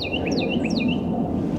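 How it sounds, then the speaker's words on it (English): A Carolina wren sings a quick repeated rolling phrase of bright whistled notes over a steady low background rumble outdoors on a fine day. "But there's that wren singing this song."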